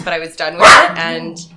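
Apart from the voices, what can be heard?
dog barking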